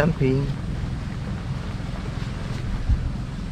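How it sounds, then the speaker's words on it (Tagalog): Strong wind buffeting a rainy, muddy campsite in Cavinti, Laguna, a continuous rough roar with gusty swells, and a voice briefly at the start. "Lakas ng hangin."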